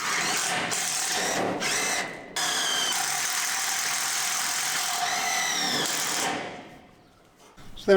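Power drill driving long tech screws into a fence bracket, a loud continuous whine running with short pauses and restarts, then winding down and stopping near the end.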